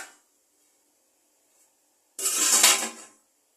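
A single metallic clatter of a lid set onto a pot of chicken biryani, lasting about a second, after near silence.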